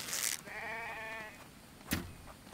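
In the survival video game The Infected, a sheep gives one clear wavering bleat, followed by a brief sharp noise, heard alone.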